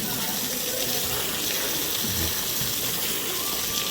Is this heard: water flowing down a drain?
yes